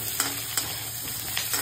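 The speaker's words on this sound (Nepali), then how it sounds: "अब देन आफ्टर ओनियन हाल्न गइरहेको छु गाइस" Diced onions fry in a pan with a steady close sizzle, broken by a few soft clinks of stirring.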